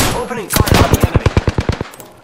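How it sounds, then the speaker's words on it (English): A rapid automatic burst of about a dozen loud, evenly spaced gunshots rings out in the video game Apex Legends, followed by a short fading tail. "Opening fire on the enemy."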